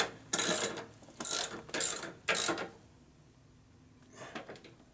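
A hand ratchet tightens a part on a 1965 Harley-Davidson panhead 74ci FLH motor during a rebuild: four short, distinct clicking bursts in a steady rhythm, close by, then a quieter fainter clicking pass a moment later.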